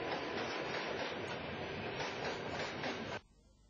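Train passing with a steady, loud broadband rumble and rattle that cuts off abruptly near the end, leaving quiet behind.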